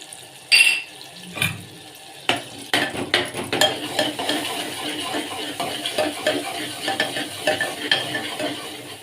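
Green and dry garlic fry in a pan for guvar shaak, a soft sizzle broken by repeated scraping and clinking strokes of a spoon stirring against the metal.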